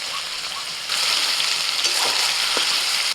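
Chicken fries with onions in a pan, a loud continuous sizzle that swells louder after the first second, with faint stirring scrapes close by.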